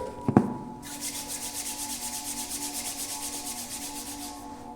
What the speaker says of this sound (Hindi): दोनों हाथों को जोड़ें और जोर से रब करें।